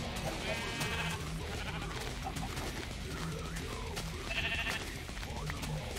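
Sheep bleat in the Minecraft video game: a few short bleats over loud, continuous background music.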